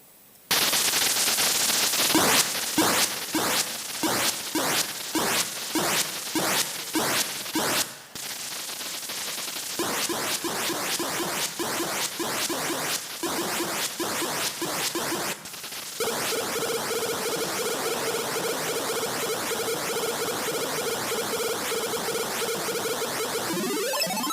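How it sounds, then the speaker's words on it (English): Gameplay sounds from the Atari game Kaboom: a regular run of sharp electronic blasts, then a drop to a lower buzzing stretch and a final steady electronic tone with rapid pulses, loud and alone. "I'll just show you a video of what Kaboom looked like."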